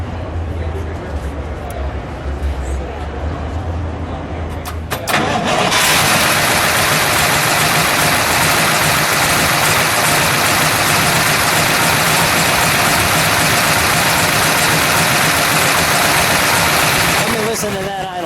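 A 1966 Plymouth Belvedere's 426 Hemi V8 cranks and catches, then settles into a loud, steady, rumbling idle close by that runs on for over ten seconds.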